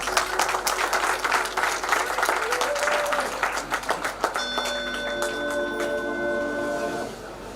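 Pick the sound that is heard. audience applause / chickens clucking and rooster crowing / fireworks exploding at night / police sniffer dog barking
audience applause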